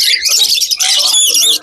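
Caged finches and lovebirds at the Krishnagar bird market chirp and tweet in a dense, high-pitched chorus, close and loud, with overlapping rapid calls throughout.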